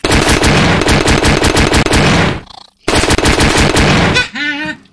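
An AK rifle fired on full auto in the video game Puppet Combo Spiders, two loud, dense, rapid bursts separated by a brief gap, the second ending in a ringing metallic tail.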